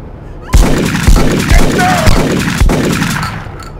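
Gunfire from the video game 25 to Life comes in loud, dense, sustained bursts that rattle on almost without pause after a brief quiet opening.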